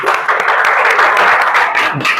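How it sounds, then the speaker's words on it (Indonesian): Sustained, loud applause fills a classroom during an Islamic cultural history teaching performance, a dense wash of many hands clapping steadily for about two seconds with no voice over it. "Kita berikan tepuk tangan."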